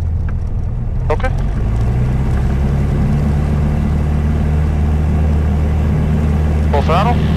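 Light aircraft engine droning steadily at full throttle on a crosswind takeoff, a loud constant low roar throughout with brief radio chirps over it.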